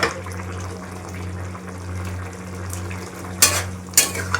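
Ridge gourd and paneer curry bubbling in a pot on full steam, a steady low simmering hiss with a couple of brief utensil clinks near the end.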